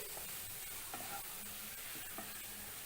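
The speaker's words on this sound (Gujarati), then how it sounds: "અને પછી બધું સરસ મિક્સ કરી લેવું." Carrot sambharo stirred in a pan after the flame is switched off, a quiet hiss with a few soft scraping strokes of a spoon, faint and close, no talk.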